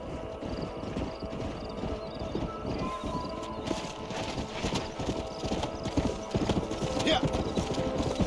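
Steady clip-clop of horse hooves on hard ground in Red Dead Redemption, fairly close, with an occasional whinny and a busy background hum.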